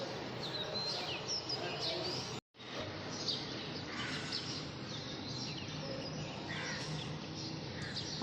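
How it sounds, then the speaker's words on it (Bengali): Morning birds chirp and call continuously in a city setting, a busy layer of short tweets at moderate distance with a brief dropout partway, and no talk over it. "সকালবেলার পাখির কিচিরমিচির ডাকগুলো শোনা যাচ্ছে।"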